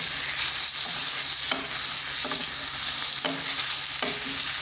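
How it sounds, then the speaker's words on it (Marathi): Chopped vegetables for a wheat-flour momo filling stir-fry in a hot pan with a loud, constant sizzle. Four or five spatula scrapes against the pan come at uneven intervals. "हे फक्त आपल्याला परतून घ्यायचं आहे।"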